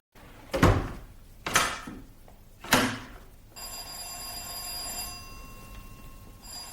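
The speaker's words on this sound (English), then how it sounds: "Where's Hackett got to, not answering the phone?" A telephone bell rings three times in bursts within a radio drama, followed by a quieter thin tonal hum, with a faint room background.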